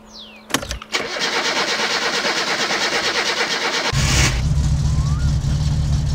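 In the video game My Summer Car, a car engine cranks and catches after a couple of sharp clicks, then settles into a rough, steady running drone that steps up louder near the end, with a voice briefly heard.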